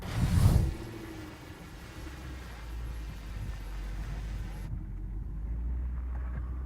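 A 2013 Range Rover's engine labors in low range over a frame-bending off-road obstacle, a low steady rumble that swells slightly while it works, with a brief close thump and rustle at the start.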